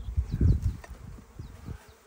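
Honeybees buzz at a beehive opened for a spring inspection, a dense, close, wavering drone that swells loudest early on and then eases, with faint rustling and no talk.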